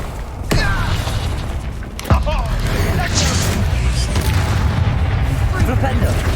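Confringo and Bombarder spell blasts in the game Hogwarts Legacy, two sharp booming impacts followed by a sustained rumbling barrage of magic effects and clatter, with voices speaking over the action.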